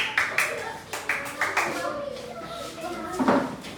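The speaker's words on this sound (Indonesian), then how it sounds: "tepuk tangan untuk kelompok 2" Schoolchildren in a classroom clap for a group of classmates, a few uneven bursts of applause near the start that fade into chatter and speaking voices.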